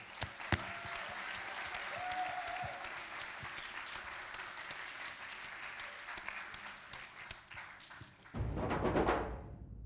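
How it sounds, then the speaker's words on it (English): Audience applause fills a hall after a youth skit by a community arts group, steady and sustained for about eight seconds before a louder burst of noise and music swells at the end. "So let's have another massive round of applause for our cast"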